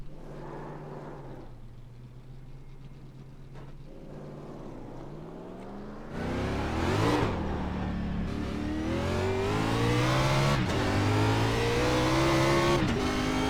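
A race car engine in the iRacing game revs hard during a burnout in an Xfinity car at Dover, a loud sustained drone that climbs sharply in pitch partway through and stays high and rising.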